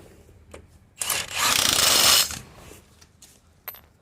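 A ratchet and socket works on the wheel of a VW Crafter or Mercedes Sprinter van, giving one brief, loud burst of rapid clicking in the middle with quieter metallic taps around it.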